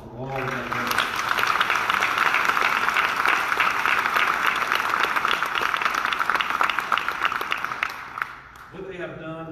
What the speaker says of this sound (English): I'd like for the American Jail Association to give them a round of applause for all of that work.